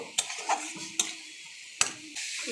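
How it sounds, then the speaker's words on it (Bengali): Ground spices (cumin, red chilli powder, turmeric, salt and a pinch of sugar) frying in a pan, with a soft sizzle under sharp spoon-on-pan scrapes at irregular intervals, close and fairly quiet, no talking. "এবার মশলাটা ভালো করে কষিয়ে নেব।"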